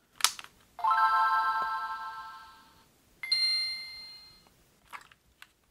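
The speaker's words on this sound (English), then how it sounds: "we're gonna start and listen to just the boot up sound" A stock Game Boy Advance with its original speaker plays its boot-up chime, a bright sustained synthetic tone followed by a second higher shimmering tone, each fading out, with small clicks before and after; clear and close with no voices.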